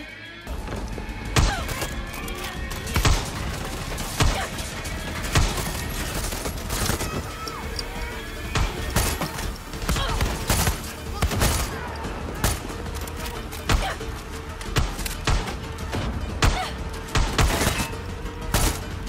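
Repeated sharp gunshots and thumping impacts crack through a Far Cry 6 fort assault, coming in irregular clusters of loud bursts over a constant rumbling bed of battle noise.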